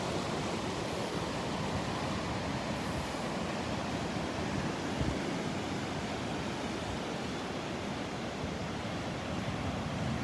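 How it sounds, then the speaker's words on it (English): Ocean waves break and wash steadily on the beach at Delnor-Wiggins in Florida, a continuous loud rushing surf roar with no voices. "Listen to those waves."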